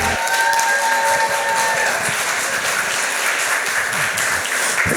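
Sustained audience applause after a vocal performance of a song, dense even clapping from a crowd that holds steady for the full five seconds with no talk over it.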